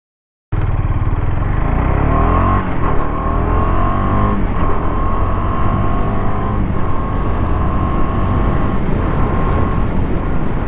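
A Husqvarna Svartpilen 250 motorcycle engine revs loudly and continuously on the road, its pitch climbing and dropping through repeated gear shifts, close to the microphone.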